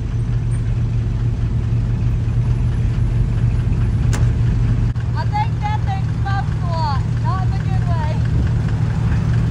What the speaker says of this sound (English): It's a diesel.